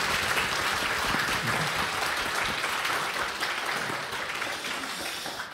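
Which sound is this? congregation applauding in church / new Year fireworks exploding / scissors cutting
congregation applauding in church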